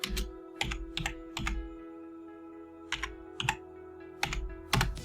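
Typing on a computer keyboard, heard as clustered bursts of close, crisp key clicks separated by short pauses over a steady background hum, with no voices.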